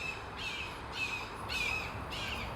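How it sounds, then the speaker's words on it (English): Crows cawing repeatedly while chasing a hawk, four harsh squawking calls in an even rhythm, fairly close and loud over a steady outdoor background. "The crows chased that fucking hawk away."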